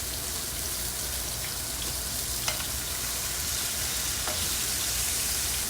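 Onion and garlic sizzle in a frying pan with a continuous bright crackling hiss, close and even in level, broken by a couple of tiny spits and no voices.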